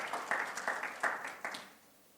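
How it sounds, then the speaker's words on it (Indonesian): Scattered applause from a church congregation during a Sunday worship service, a handful of claps fading out over a couple of seconds, moderately distant and fairly quiet. "Mari berikan tepuk tangan."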